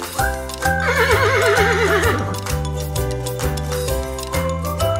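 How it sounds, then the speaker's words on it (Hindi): A horse neighs and whinnies in a long quavering call, loud and close, with steady clip-clop hoofbeats running underneath as part of a domestic farm-animal sound sequence. "ये है घोड़ा, इंग्लिश में कहते हैं हॉर्स।"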